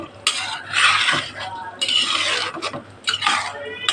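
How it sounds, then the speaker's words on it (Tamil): Repeated scraping and clinking of a spoon stirring curd through a thick prawn biryani mixture in a metal pot, in bursts with short pauses, close by. "இதில் ஒரு கொட்டரை தயிர் ஊற்றி நல்லா இலக்கி விட்டுட்டு"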